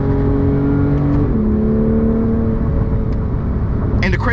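A Porsche 991 GT3 engine drones steadily while driving, its tone shifting partway through as revs change, loud and close throughout with a brief higher burst near the end.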